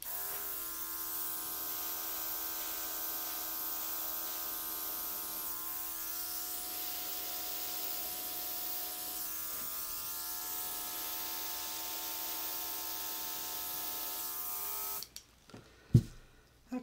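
A cordless airbrush sprays paint with a steady, close electric buzz for about fifteen seconds, then cuts off, followed by a couple of brief knocks.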